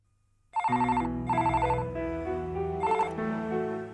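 A telephone at an STD phone booth rings with repeated bright electronic bursts over a low sustained tone, close and clear, with no voices.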